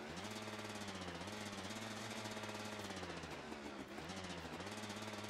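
Loud, steady engine of a repaired motorcycle in the video game A Way Out, running continuously with a rough, pulsing drone and a brief dip in revs near the end.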